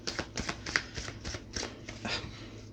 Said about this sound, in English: I'm going to shuffle it one more time after this